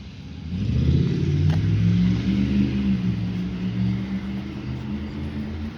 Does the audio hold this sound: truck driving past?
yes